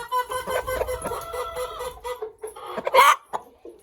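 A hen clucks repeatedly nearby in short, uneven bursts, with one louder squawk near the end.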